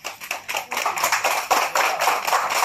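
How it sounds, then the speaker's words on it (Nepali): Audience applause at a Nepali community award ceremony in the UAE: a crowd claps steadily and densely close by, with dense overlapping hand claps that continue throughout without talk. "ताली बजाइदिनु होला"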